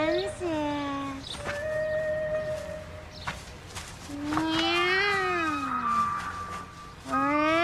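Cats caterwaul during mating in the animated film Felidae: drawn-out, rising and falling yowls, loud and close, repeated several times with short pauses between them.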